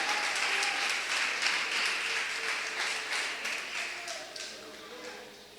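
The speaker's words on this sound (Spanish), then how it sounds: "¿Cuántos le dan un aplauso a Cristo, hermano?" A church congregation applauds during a pastor's sermon, with a dense wash of clapping from many hands that fades slowly toward the end, while voices carry over it.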